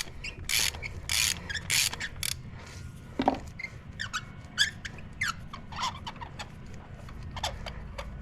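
A 5/8 socket on a ratchet wrench turns out a spark plug on a Ford Raptor with rapid clicking bursts, then a few slower single clicks, up close and alone.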